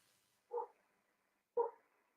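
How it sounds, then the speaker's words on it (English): A dog gives two separate barks about a second apart, moderately close and otherwise in a quiet indoor room. "my dog is barking."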